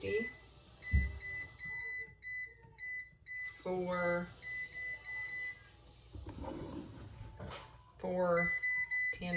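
An air fryer set to 350 beeps several times as it is programmed and started, short electronic tones sounding close by under a speaking voice.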